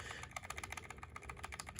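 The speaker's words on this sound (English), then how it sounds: "the keys are very quiet and have good feedback" Fast, steady typing on a Logitech MX Mech Mini mechanical keyboard with quiet keys, a dense run of soft, even clicks heard up close at low volume with no one talking.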